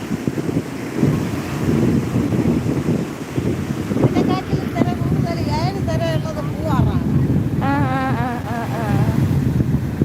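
Sea waves washing onto Vettukad beach, a broad wind-blown surf roar with people talking over it throughout.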